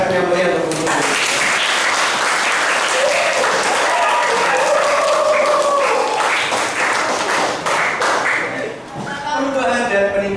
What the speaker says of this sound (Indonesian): berikan tepuk tangan yang meriah untuk Ibu Guru